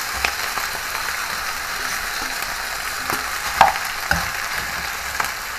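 Chicken feet frying in a pan for adobo, giving a steady, faint sizzle with a few soft clicks and scrapes of stirring now and then.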